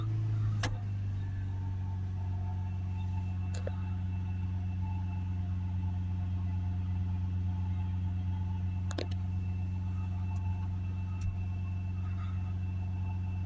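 Ford Transit van with a blocked DPF, engine held steady at around 3000 RPM, giving a constant loud drone and hum that runs unbroken throughout, with a few faint clicks over it.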